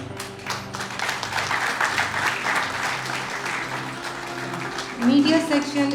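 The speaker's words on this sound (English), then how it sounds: "big round of applause for the organizers" A crowd at a student project exhibition applauds with steady clapping while a voice speaks over it, the clapping fading near the end as talk continues.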